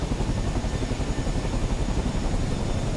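A helicopter hovering low over Truro in Cornwall drones with a steady, loud rotor chop, close and unbroken throughout with no talk over it.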